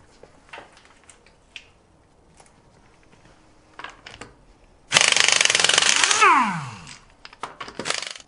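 A power impact wrench spins lug nuts off a boat trailer wheel, with a loud burst of rattling and a whining rundown after scattered small clinks and taps.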